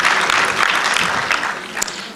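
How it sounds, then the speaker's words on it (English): Audience applause at a church general synod session, a dense steady wash of clapping from a large gathering that holds fairly loud throughout, with no voices rising above it. "Yeah, it needs an applause."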